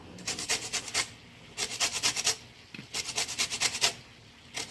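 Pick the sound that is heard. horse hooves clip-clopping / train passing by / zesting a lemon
zesting a lemon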